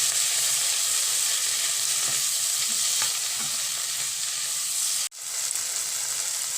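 Onions and tomatoes sizzling in a pan with turmeric for baingan bharta, a loud, dense, continuous hiss close up, broken once by a brief sharp dropout near the end.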